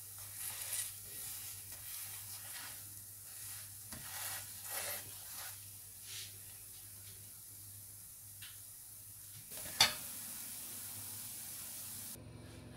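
Chicken paratha fries in oil in a pan over a low flame, giving a quiet, steady sizzle with occasional soft scraping stirs and one sharper clink near the end.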